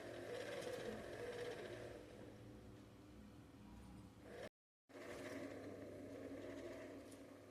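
Small motor mechanism of a DIY mini cable car running with a steady whirring, rattling hum, close and continuous, broken by a brief half-second gap before resuming.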